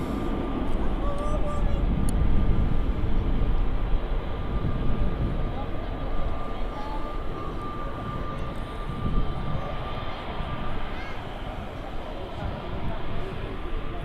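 A Ryanair Boeing 737-800 jet roars steadily at Manchester Airport, a broad engine rumble holding loud throughout with a faint whine, as a person talks over the noise.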